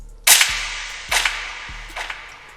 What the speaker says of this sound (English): For the effects, I just used the gunshot sound.